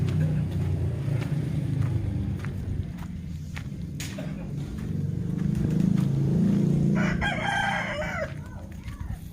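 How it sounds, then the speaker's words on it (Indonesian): A rooster crows loudly near the end over a low rumble of passing traffic, with occasional clucks and footsteps earlier. "Di sini banyak ayam ya teman-teman."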